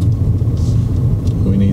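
A car engine idles low and steady during a driving lesson, a continuous close rumble with people talking over it.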